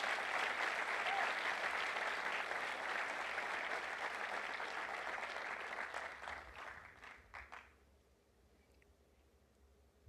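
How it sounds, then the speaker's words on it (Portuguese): Church congregation applauding during a sermon, steady dense clapping that thins into a few scattered claps and fades out near the end. "O aplauso seu está maravilhoso"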